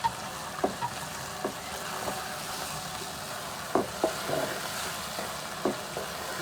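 Beef keema frying in a pan with ground chili, salt and tomatoes, a low steady sizzle broken by a few soft stirring knocks, no voices.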